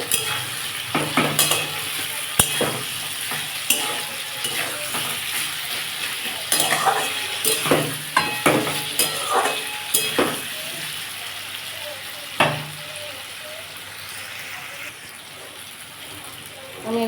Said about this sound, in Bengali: দেখুন অল্প আলুটা ভাজা টমাটো দিয়ে দেবো